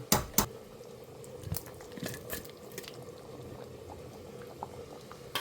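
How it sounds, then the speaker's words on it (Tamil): A pot of dried fish curry bubbles and boils steadily, with soft popping and burbling, and a couple of sharp clicks near the start. "குழம்பு என்னாச்சு பார்க்கலாம். நல்லா கொதிச்சிடுச்சு."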